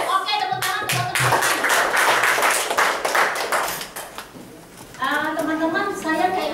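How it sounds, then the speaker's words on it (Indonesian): An audience at an office gathering claps hands, a burst of clapping rising after a speaker's voice, fading briefly, then giving way to speech again. "Oke, tepuk tangan teman-teman."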